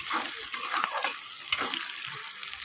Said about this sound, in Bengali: এগুলো একটু ভেজে নিয়ে হালকা করে সুন্দর করে একটু ভেজে নেব